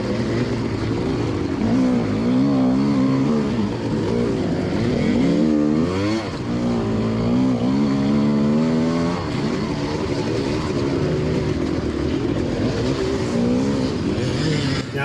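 A GPX enduro motorcycle races a lap at Spaunton Quarry, its engine loud and close throughout, revving and dropping in pitch as it shifts, with no talk over it.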